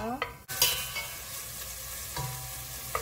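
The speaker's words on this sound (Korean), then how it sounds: "고기가 3분의 1 정도 익도록 볶아주세요." Beef stir-fries with soup soy sauce in a pot, with a steady close sizzle broken by a few scraping strokes of a utensil and no voices.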